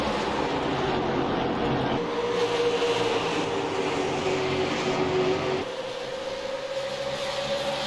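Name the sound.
super late model race cars winding up on track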